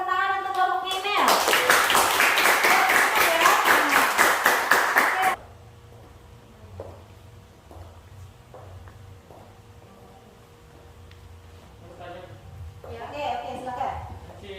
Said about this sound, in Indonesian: kasih tepuk tangan untuk kelompoknya Mel